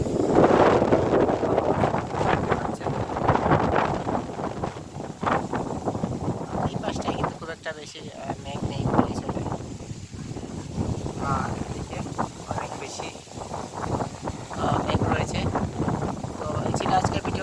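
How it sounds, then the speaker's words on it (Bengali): Strong wind in a village before a rainstorm roars as a loud, continuous gusty rush buffeting the microphone, swelling and easing throughout. "অনেকটা ভয়ঙ্কর রূপেই আসছে এখনও বৃষ্টি শুরু হয়নি কিছুক্ষণের মধ্যেই বৃষ্টি শুরু হয়ে যাবে আপনারা বাতাসের"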